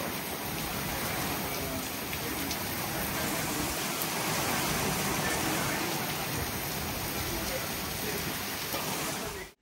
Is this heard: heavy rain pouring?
yes